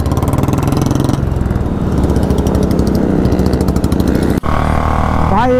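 A KTM Duke 390 motorcycle engine roars loud and close through a wheelie ride, a steady buzzing drone that briefly cuts out near the end before climbing into a rising rev.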